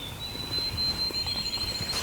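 A wild turkey gobbles faintly in the distance over a quiet outdoor background with a steady high-pitched insect or bird whine.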